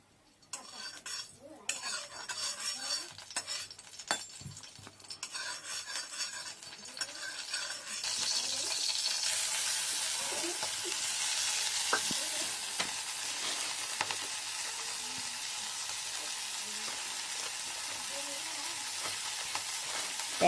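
Wasp larvae frying in hot oil in a pan, with sharp clinks and scrapes of stirring first and then a loud, steady sizzle that grows and holds, close by, with no talking.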